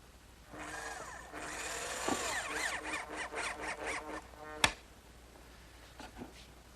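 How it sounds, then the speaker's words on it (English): A power drill drives a screw into a wooden blank: a rising, whining motor buzz lasting a few seconds, ending in a sharp click, then a couple of faint knocks. "And now I want to drive a screw in that line."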